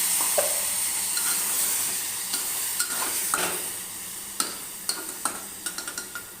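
Spice-rinse water is poured into a rohu fish curry with potato and pointed gourd, setting off a steady close sizzle while a spoon scrapes and taps against the pan in quickening clicks toward the end.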